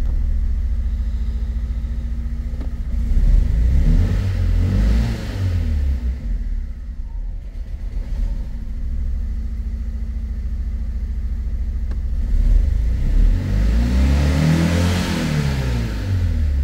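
A 1.2 petrol Fiat Punto with a misfire and a flashing engine warning light starts and runs, a loud close idle with a rough, uneven throb that rises through a few revving surges and falls back.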